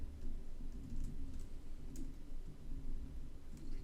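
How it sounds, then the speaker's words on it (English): A computer keyboard is typed on in quick, faint bursts of soft key clicks over a low background hum. "I can type here"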